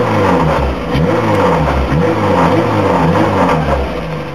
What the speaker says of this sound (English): Ah, beautiful idle.